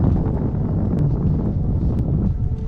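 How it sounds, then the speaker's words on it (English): Strong wind rips steadily across a glacier col in the Canadian Rockies during a ski traverse, a loud continuous roar buffeting the microphone throughout with no pauses. "It's fucking cold and the wind's ripping."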